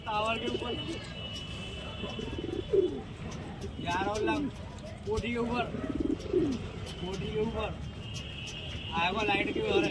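Pigeons of several breeds coo repeatedly, close by, in a steady string of throaty rolling calls over low background noise.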